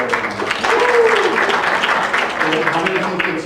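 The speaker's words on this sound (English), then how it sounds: "Just round of applause if you think it's Hispanic." An audience at a speech claps in a short burst of applause that swells and fades, with voices murmuring through it.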